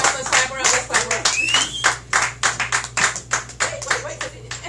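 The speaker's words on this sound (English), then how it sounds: "Let's clap around. Let's clap around." A live audience claps in a steady rhythm, sharp repeated beats close by, with voices and a brief whistle-like tone mixed in.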